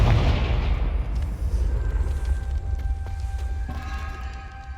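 Confringo blasting curse in Hogwarts Legacy, a single booming explosion at the start whose heavy low rumble slowly decays over several seconds, with a faint tonal hum entering near the end.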